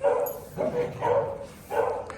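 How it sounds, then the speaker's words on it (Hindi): A Beagle barks four times in a loose rhythm, close and moderately loud, each bark a short rough yelp. "और अब ये भौंक रहा है मुझसे मिलने के लिए।"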